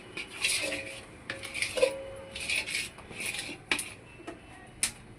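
Flour is stirred into jaggery syrup in a pot for ariselu, giving close scraping and clinking of a utensil against the pot in irregular bursts, fairly quiet with no clear talk.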